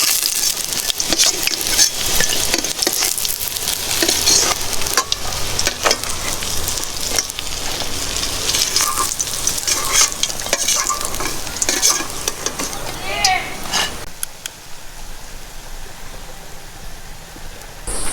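Lentil fritters (bora) fry in hot oil with a steady, dense crackling sizzle and occasional stirring scrapes, loud and close, easing off near the end.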